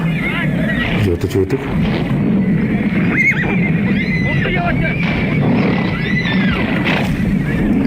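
A horse neighs and snorts, several loud whinnies with rising and falling pitch close by, mixed with snorting breaths and background rustle.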